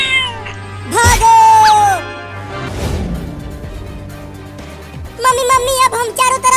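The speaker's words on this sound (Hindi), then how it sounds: "अब देखो ये दोनों बिल्लियां कितनी गुस्से में हैं।" Angry cartoon cats meow and caterwaul loudly in long, bending yowls, one burst early and a cluster of snarling cries near the end, with other noisy sound between them.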